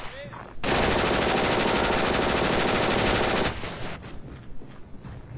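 Sustained automatic gunfire in a shooter video game, a loud, rapid machine-gun burst lasting about three seconds, then scattered softer shots and game noise.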